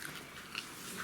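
Wolfdog puppies at 41 days old chew and bite on pieces of food, giving close, wet gnawing and crunching sounds in short irregular bursts with no talking.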